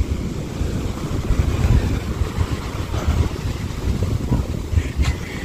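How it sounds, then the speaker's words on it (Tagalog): Strong wind buffets the microphone over the steady rush and roar of surf on a beach, with big waves crashing continuously and loudly throughout. "Malaki pa rin talaga ng alon at hangin."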